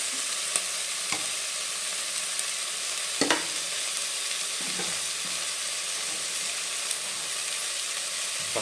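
Salt is stirred into methi bath frying in a pan: a steady, soft sizzle runs throughout, broken by a few sharp scraping knocks of the spoon against the pan, with no talking.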